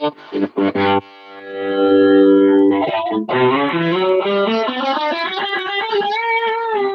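Electric guitar played through a Matterator distortion pedal with its compressor switched off: a few short chord stabs, then a long sustained, harmonically rich distorted chord and a melodic run, loud and clear with no talking.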